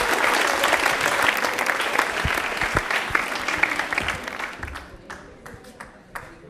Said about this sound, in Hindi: एक बार सूर्यांश के लिए तालियां हो जाए जोरदार वाली